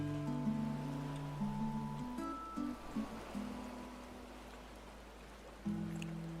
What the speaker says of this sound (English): It's a rainy day.